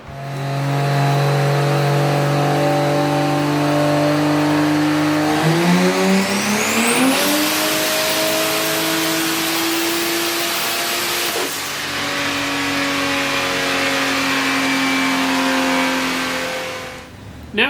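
A turbocharged Vortec 4200 engine at 43 psi of boost screams through a long wide-open pull on a strong rising whine, steps up through gears, then holds high revs before cutting off, very loud and close.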